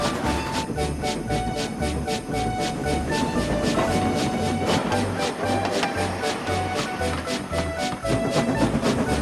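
Train coaches clatter steadily over rail joints in a regular clickety-clack rhythm, loud and close, with a faint squeal now and then.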